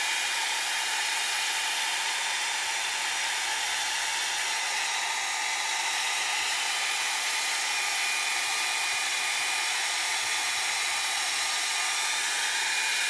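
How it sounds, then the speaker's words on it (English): Heat tool blowing steadily over faux rust painted frames: a loud, constant whooshing hiss with a high whine, unbroken and alone with no talk. "So I'm just going to keep heating these until they're dry"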